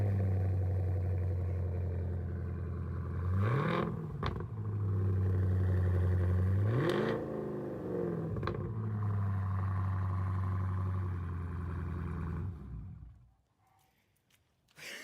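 A Chevrolet Camaro SS idles with a deep, steady rumble, then revs sharply a few times, each swell rising and falling back to idle before the engine cuts off and goes quiet.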